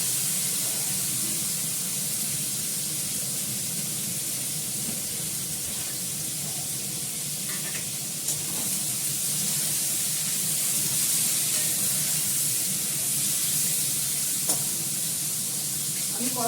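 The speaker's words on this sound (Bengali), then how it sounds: "করলাটা ভালো করে লাল করে ভেজে নেবো" Bitter gourd (karela) slices frying in hot oil, a steady, even sizzle and hiss that runs unbroken throughout at moderate level, with a faint background murmur.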